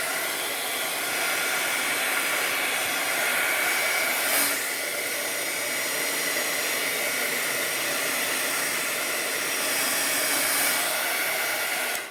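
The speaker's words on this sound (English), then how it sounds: "You can also use a hair dryer or a heating tool to get more action" A hair dryer blows steadily at close range, a constant loud whooshing hiss that runs the whole time with only slight shifts.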